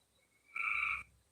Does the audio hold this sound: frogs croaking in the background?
yes